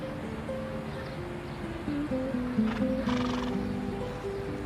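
A horse neighs in a drawn-out whinny over a steady background, with a brighter burst near the middle.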